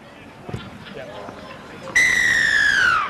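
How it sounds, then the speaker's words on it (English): A sharp, loud referee's whistle blast at an outdoor rugby league match signals a successful conversion kick. It cuts in over faint crowd noise and distant voices and holds for about a second before dropping off. "The whistle says it was successful."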